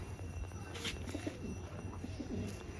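Tournament-winning racing pigeons, including a male, coo in a home loft in Barasat, repeated low, throaty coos close by with steady background hum and no talk.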